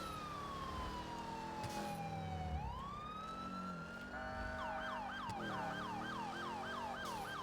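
Electronic-sounding emergency vehicle sirens in a video game: a long falling wail that then shifts into a rapid rising-and-falling yelp, loud and continuous.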